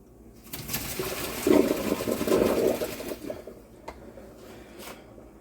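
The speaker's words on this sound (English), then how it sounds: "I'm going to drain my noodles." Cooked noodles poured out to drain, a broad watery rush that swells and splashes for a few seconds, then tapers to faint drips and a couple of light clicks.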